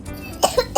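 A small child coughing from a cold, a few short rough bursts close by with a brief pause between them.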